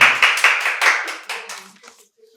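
An audience at a quiz competition at a medical college and hospital in Santiniketan breaks into a burst of rapid hand clapping that quickly thins and dies away within about two seconds.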